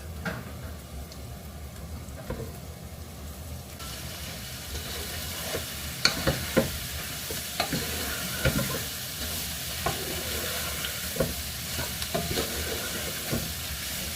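Mixed vegetables, already fried, stir-fried in a pan: a steady sizzle and frying hiss with repeated scraping stirs and clinks, continuous and close, no talking.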